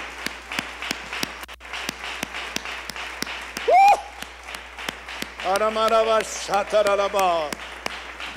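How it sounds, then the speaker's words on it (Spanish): A church congregation claps during a Spanish-language worship service, with steady rhythmic applause running throughout while a voice rises over it in spoken and sung exclamations. "Dele aplauso a Dios."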